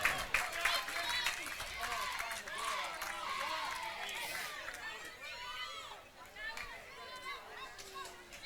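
Crowd at a Highland college softball championship game cheers and claps after a game-tying run batted in, a broad continuous roar of voices with scattered shouts, fading slightly toward the end under a commentator's voice.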